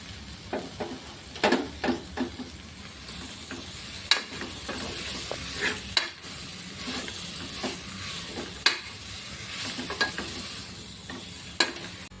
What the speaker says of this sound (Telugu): అలాగే మనం కట్ చేసి పెట్టుకున్న బచ్చలాకులు కూడా వేసుకొని వేయించుకోవాలి